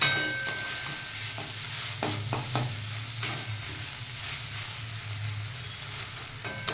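Roughly chopped onions and spices sauté in a pan with a little oil for chicken rolls, giving a continuous close sizzle with repeated spatula scrapes and taps.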